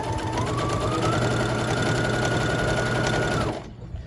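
Sewing machine stitching a fabric pot or bowl protector, running steadily at close range with a rapid mechanical whir and a rising motor whine that stops abruptly near the end.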